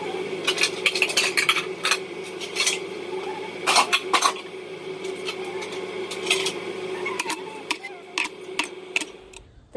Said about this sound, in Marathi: गाईज आता भांडी वगैरे रचून झाले